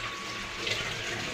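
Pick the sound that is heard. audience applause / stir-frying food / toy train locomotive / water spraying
water spraying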